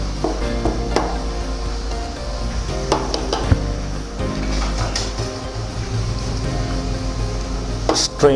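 Chicken cooks in a frying pan with a little oil and water, a soft sizzle beneath repeated clinks and scrapes of a utensil stirring against the pan, a few sharper knocks scattered through.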